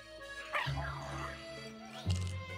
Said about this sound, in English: Who's a good dog?